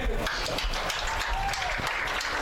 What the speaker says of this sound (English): And they're giving a round of applause to St. Leo.